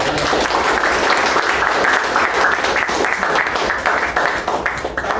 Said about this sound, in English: Let's give a warm round of applause to all the three speakers.